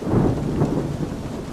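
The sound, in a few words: thunder and heavy rain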